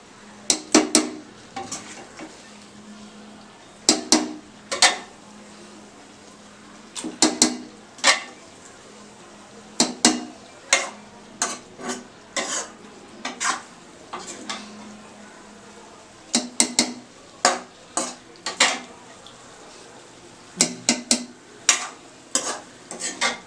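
A pressure cooker holding mutton curry is handled on the stove, producing clusters of sharp metallic clanks and scrapes in irregular bursts with quieter gaps between.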